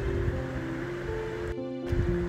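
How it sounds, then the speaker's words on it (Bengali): Chopped onion frying in a pan for a prawn chow mein, a steady close sizzling hiss over a low hum, briefly dipping near the end before continuing. "পেঁয়াজ কুচিটা দিয়েই কিছুটা ভেজে নিতে হবে।"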